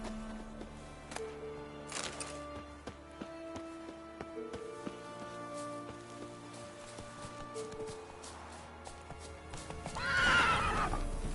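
A horse in the video game The Witcher 3: Wild Hunt whinnies loudly near the end, with hooves clip-clopping and steady rain falling behind a soft musical backdrop.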